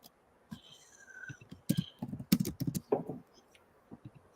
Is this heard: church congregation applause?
no